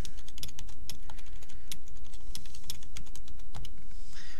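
Someone types on a computer keyboard in a fast, uneven run of clicky keystrokes, close and fairly loud, with no voices over it.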